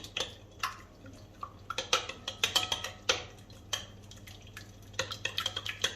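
A spoon lightly stirs chili flakes, black pepper, cumin, salt and paprika in a bowl, giving sparse, irregular clicks and scrapes against the bowl with quiet gaps between them.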